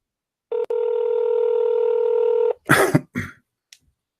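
Telephone number dialed on a phone keypad: a long steady tone after a brief blip, followed by a cough and throat clearing, close and clear with no talk.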